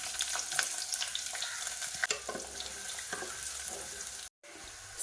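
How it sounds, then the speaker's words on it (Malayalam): Chopped onions fry in hot oil with fenugreek seeds, a steady close sizzle with small crackles and a few stirring knocks that drops out briefly near the end before resuming. "അതിലേക്ക് നമുക്ക് അരിഞ്ഞ സവാള ഇട്ട് കൊടുക്കാം."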